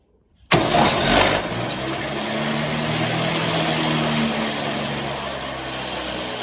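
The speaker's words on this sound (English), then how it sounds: "3 car batteries, 1 helicopter starter engine" Electric go-kart powered by three car batteries cranks up through a helicopter starter motor: a sudden loud whir kicks in, then settles into a steady, close, droning engine hum that holds for several seconds.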